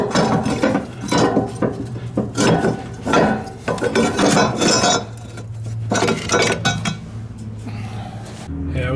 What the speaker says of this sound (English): But I'm gonna undo the rest of the bolts.